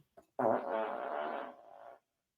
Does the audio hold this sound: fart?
yes